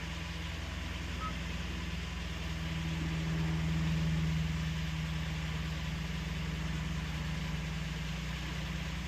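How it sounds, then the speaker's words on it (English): A 2021 Hyundai Palisade idling high on a cold start, a steady close engine hum that swells slightly around the middle, with no talk over it. "Now what I'm gonna do is let it idle a little bit. So it's got a high idle because it's cold."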